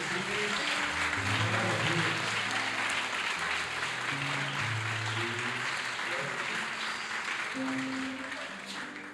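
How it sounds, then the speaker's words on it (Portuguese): Steady applause fills the space from a church congregation clapping continuously at an evening service, with a voice audible underneath. "Vamos aplaudir ele, gente, vamos aplaudir ele."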